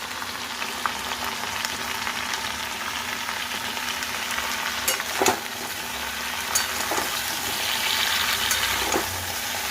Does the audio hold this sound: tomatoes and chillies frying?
yes